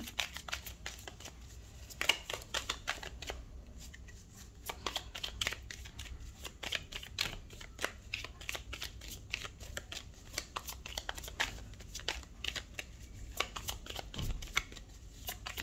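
Tarot cards being shuffled by hand, a steady run of quiet riffling and flicking with soft crinkly taps throughout, close and low in level with no talk.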